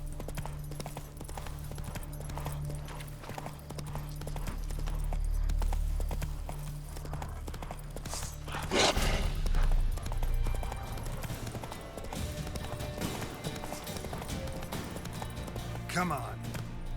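Hooves clip-clop at a steady galloping rhythm as the horse Roach runs in The Witcher 3: Wild Hunt on PC, moderately loud, with game ambience and a voice briefly speaking over it.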